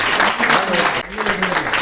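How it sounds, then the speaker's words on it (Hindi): An audience at an awards event for high-scoring 10th and 12th grade students claps for a student, a brief burst of close, dense applause mixed with voices. "जोरदार ताली इस बच्चे के लिए"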